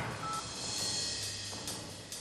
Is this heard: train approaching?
no